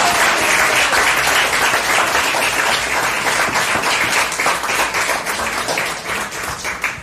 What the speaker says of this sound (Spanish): Aplauso a la gloria de Jehová